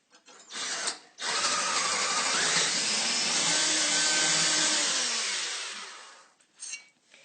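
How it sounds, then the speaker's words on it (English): A power drill bores a hole 2 centimeters deep for a bolt: one loud, continuous whine of about four seconds, framed by short blips of the motor before and after. "you have to drill a hole right here 2 centimeters in so the bolt"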